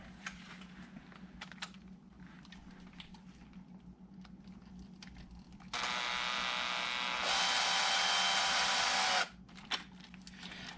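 A cordless drill drives a screw into a mount on an RC monster truck conversion, a close whirring burst of a few seconds that rises in speed before stopping, among quiet handling clicks.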